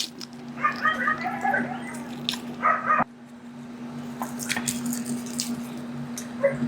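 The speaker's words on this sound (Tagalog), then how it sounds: "pasensya na sa mga aso guys na naririnig niyo yung mga asong ingay." Several dogs bark and whimper nearby in bursts of yips and whines, with a steady low hum underneath and a sharp break partway through.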